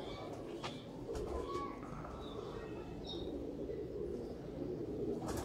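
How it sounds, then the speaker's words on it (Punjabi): Old pure Dobaz pigeons cooing softly and fairly faintly, repeated low coos over a steady background hiss with a few light chirps. "ਇਹ ਤੁਸੀਂ ਪਰਿੰਦਾ ਵੇਖਿਆ ਪਿਓਰ ਦਬਾਜ਼"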